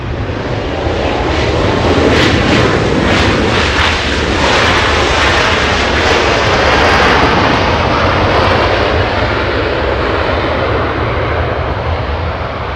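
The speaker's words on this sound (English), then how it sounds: "Next arrival, we have Alaska 853 flying in from Portland, Oregon. A 2-hour flight, 737-900." An Alaska Airlines Boeing 737-900 arriving at Los Angeles International from Portland roars loudly and close by, its jet engine noise sustained and broadband with a smooth swelling and fading rush, with no voices over it.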